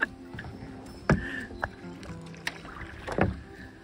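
Canoe paddling on an Allegheny River tributary: a few separate wooden-sounding paddle knocks and splashes against the hull, close by, with soft water and outdoor air between strokes and no talk.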